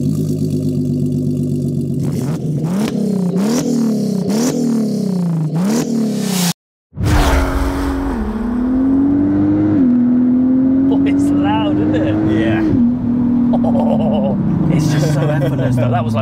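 A turbocharged MK5 Volkswagen Golf R32 with DSG gearbox accelerates hard on the road, its engine note rising through quick repeated gear changes, then pulling long and loud after a brief break, with people talking over it.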